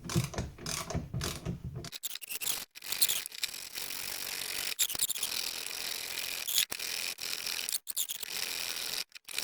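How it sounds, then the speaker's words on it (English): Two spring compressors are worked in turn on the rear coil spring of an Audi A6, giving bursts of rapid ratcheting clicks broken by short pauses and some metallic clanks, heard close up. "working both spring compressors a little bit at a time until we compress the spring to the desired length"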